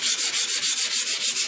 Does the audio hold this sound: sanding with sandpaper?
yes